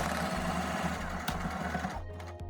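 A sewing machine runs a quarter-inch seam on a fabric lining piece for a napkin ring, a steady close whirring with rhythmic stitch pulses that stops near the end, leaving a few faint clicks.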